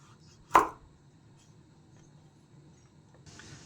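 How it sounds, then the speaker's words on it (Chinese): A knife slices off the base of a chestnut in one sharp, close chop against a cutting board, followed by quiet room tone. "再把板栗的底部给切掉"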